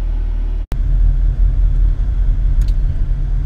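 Car driving on the road, heard from inside as a steady loud low engine and road rumble with one brief dropout, no talking.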